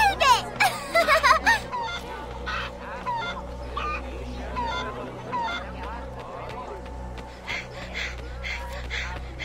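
A chicken squawks and clucks in the video game Assassin's Creed Liberation, with loud, rapid bursts at the start and more scattered calls over a steady game soundscape and background music.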